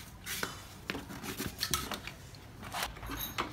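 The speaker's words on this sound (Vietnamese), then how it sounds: "Rồi mở ốc nồi kiểm tra." Metal bolts on the crankcase cover of a Yamaha Exciter 62 motorbike being unscrewed by hand, giving scattered sharp metallic clicks and scrapes of tool against metal, fairly close and without talk.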